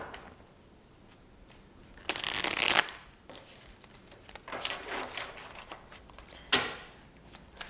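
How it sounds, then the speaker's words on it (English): Tarot cards are shuffled by hand in a few bursts of riffling and flapping, close and fairly loud, separated by quieter rustling pauses. "let's also go ahead and shuffle some of these tarot cards"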